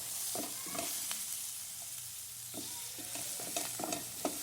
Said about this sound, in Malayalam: ഈ ഉള്ളി ഇതിൽ തന്നെ കടന്ന് നന്നായിട്ട് ചോക്കായി വരുന്നത്